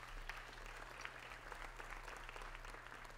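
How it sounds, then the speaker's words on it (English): Audience applause at a Hall of Distinction induction ceremony in 2023, a steady, fairly quiet wash of clapping from a seated crowd with a low hum beneath, continuing evenly without talk. "So round of applause for that."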